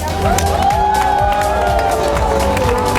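Outdoor crowd at a charity half-marathon finish in Mukachevo cheering and clapping for the winner, a loud, dense, continuous roar of applause and shouts, close and filling the whole moment.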